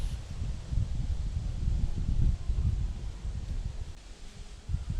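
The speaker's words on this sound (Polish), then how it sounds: "Wiatr wieje co chwilę" Outdoor wind buffets the microphone in low rumbling gusts, rising and falling over a few seconds with no speech, during a Swedish torch fire build.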